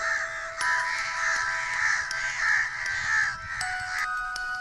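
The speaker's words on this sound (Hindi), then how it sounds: "पेड़ पर बैठे हुए कौवे राक्षस को देखकर चिल्लाने लगते हैं।" Crows perched in a tree caw loudly in a cartoon, a dense overlapping run of harsh repeated calls over a steady high tone, alone with no talking.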